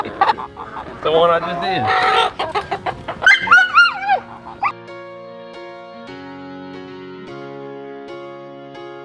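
Chickens cluck and squawk in a short, busy burst while settling their pecking order, with a rooster-like call among them. A person speaks briefly, and then only a faint steady hum remains.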